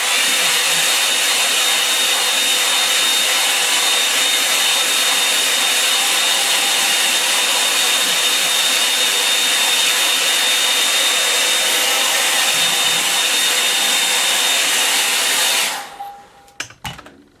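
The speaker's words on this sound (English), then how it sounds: "I'm just going to dry it off" Loud, close hair dryer drying a watercolour painting, a constant whooshing drone for about sixteen seconds before it shuts off, followed by a few light handling knocks.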